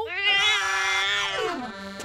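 A single drawn-out animated cartoon cat meow, loud and close, rising and then sliding down in pitch over about two seconds.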